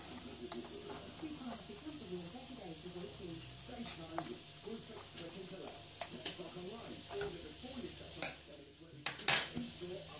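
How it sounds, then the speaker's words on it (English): A spoon stirs an apple mixture with nutmeg in a bowl, giving soft continuous scraping and occasional clinks at moderate distance, with a few louder knocks near the end. "Mix all this together as well as I can."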